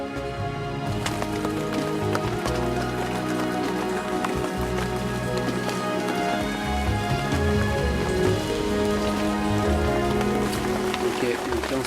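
Rain falling on the Amazon jungle in Suriname, a steady dense patter of drops on surfaces lasting throughout, with a constant background hum and faint knocks mixed in.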